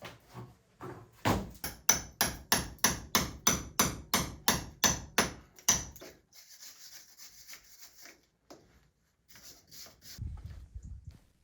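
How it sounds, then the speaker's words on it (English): Chisel and hammer chipping old plaster patches from an indoor wall: a fast run of about fifteen sharp, evenly spaced strikes, then scraping and rubbing, and a few low knocks near the end. "this time chipping out various old patches of plaster"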